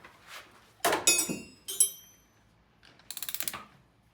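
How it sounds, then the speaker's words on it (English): A heavy metal wrench clanks on a 5-speed manual transmission in a repair shop, giving a few sharp metallic clinks and then a quick rattling ratchet-like series, close and fairly faint. "I take a nice heavy wrench and do this"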